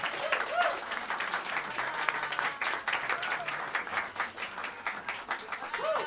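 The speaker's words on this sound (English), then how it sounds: "How about a round of applause for this great band one more time?" Applause from a jazz club audience at Smalls in New York City for a live quartet, steady crowded clapping filling the room for several seconds, moderately distant and even.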